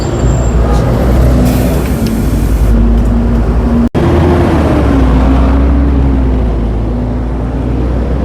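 Steady low engine rumble and road noise from inside a moving city bus in Korea, continuous and fairly loud with a brief dropout midway, no talking.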